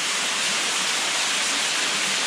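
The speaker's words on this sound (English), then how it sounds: "he's like right in a small waterfall going down" Small waterfall pouring down inside a limestone cave, a steady loud broadband rush of falling water with no break and no voices.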